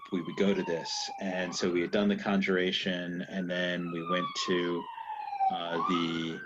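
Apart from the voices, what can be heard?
emergency vehicle siren passing by outside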